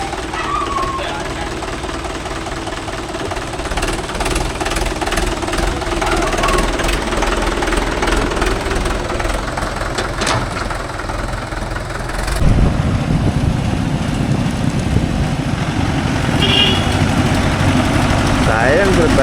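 A Mahindra 575 DI tractor on a farm, with a worn silencer packing, runs with a steady knocking diesel rumble that grows louder and deeper partway through, while people talk nearby.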